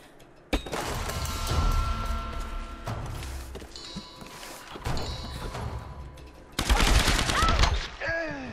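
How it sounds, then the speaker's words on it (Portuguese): Machine gun fire and shooting in the 2013 video game Tomb Raider, loud sustained bursts with thuds and whooshes, in three main volleys spread across the stretch, close and dense with brief gaps between. "Quase me matou com a metralhadora dele."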